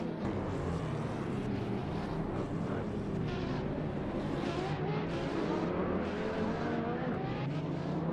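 AI-driven racing cars roar around the Long Beach street circuit in a racing game, a dense, continuous engine drone with shifting pitch as cars pass and change gears.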